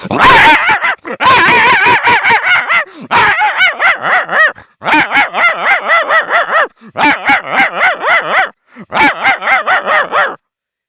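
A man vocally mimics big dogs barking in a fight: loud, rapid strings of barks in four or five bursts separated by short pauses, close and unaccompanied.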